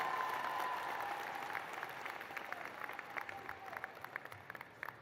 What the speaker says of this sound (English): how about another round of applause for those great student speakers